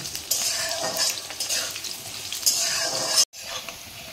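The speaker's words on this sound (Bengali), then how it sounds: "আলুগুলো আমি একটু ভেজে নিই।" Potatoes frying in a pan for a Bengali vegetarian lau shak dish, with a continuous close sizzle, spatula scrapes and a brief pause near the end, no talking.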